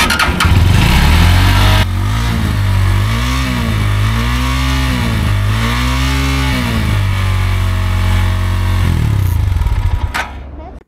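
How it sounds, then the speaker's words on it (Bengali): A GPX Demon GR165RR motorcycle idles loud and close through its exhaust, a steady throbbing drone with several quick throttle blips that rise and fall before the engine cuts off. "এটার যে এক্সস্ট, এটাও কিন্তু অনেক মানে হেভি লাগে দেখতে, অনেক সুন্দর। এটা সাউন্ডটা যদি একটু শোনাই আপনাদেরকে।"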